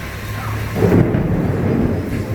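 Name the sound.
loud thunder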